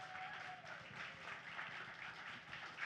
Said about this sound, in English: So round of applause to them for making this all happen.